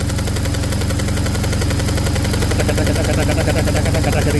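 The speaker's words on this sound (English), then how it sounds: "This particular injector is pretty loud." A BMW R1150GS motorcycle engine idles steadily up close, its rapid regular ticking and knocking dominated by a loud, clattery fuel injector, the pulse continuous from start to finish with no talk.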